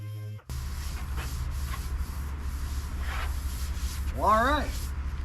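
Steady back-and-forth rasping of a sanding block working high-build primer on a car body, continuous and close, with a brief squeak near the end.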